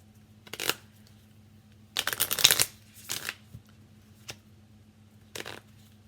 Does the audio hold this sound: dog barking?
no